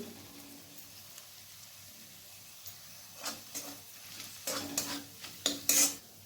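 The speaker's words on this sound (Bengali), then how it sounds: "এরপর আদা, রসুন ও পেঁয়াজটাকে ভালোভাবে ভেজে নেব।" Ginger, garlic and onion fry quietly in a pan for mutton keema, with a soft sizzle underneath and a spoon scraping and stirring in occasional strokes that grow louder near the end.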